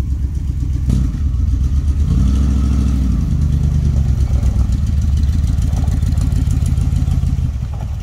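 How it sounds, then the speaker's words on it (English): A van drives by with a loud, steady, low engine rumble that swells briefly as the revs rise, continuing without pause and with no talking. "Ah, the van. Yeah, you can cruise that."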